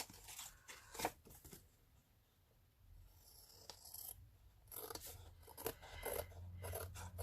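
Scissors snip through paper while an envelope folio is trimmed down, a few quiet close cuts with rustling and handling of the sheets between them, no talk.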